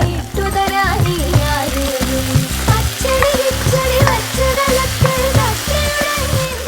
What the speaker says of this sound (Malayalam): ഇത് നന്നായി ഇളക്കിയതിന് ശേഷം